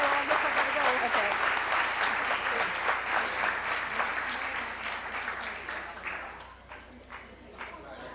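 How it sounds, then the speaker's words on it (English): Lecture audience applauding at the close of a talk, full clapping that gradually thins and fades, with someone speaking over it. "And let's applaud a courageous woman."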